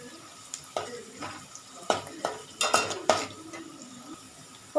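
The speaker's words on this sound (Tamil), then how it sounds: "இதை நல்லா வறுத்துக்கணும், நல்லா பொன்னிறமாக வறுக்கணும்." Coriander powder is dry-roasted in a pan for a Kumbakonam fish curry, with repeated close spoon scrapes and clinks against the metal pan over a faint background sizzle.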